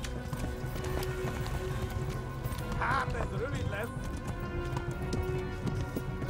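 Horse galloping in Kingdom Come, with steady rhythmic hoofbeats throughout and a brief whinny partway through, all under continuous talking.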